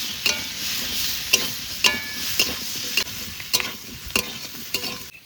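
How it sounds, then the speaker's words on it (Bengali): Potato and papaya chunks frying in a pan with ginger paste and turmeric, a steady close sizzle broken by sharp scraping stirs of a spatula every second or so, with no voices. "সবজি ভালো করে ভেজে নিয়েছি,"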